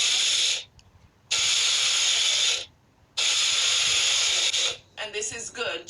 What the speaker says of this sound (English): So I'm just going to pour about a quarter cup in the blender, and I'm going to give this about 2 to 3 pulses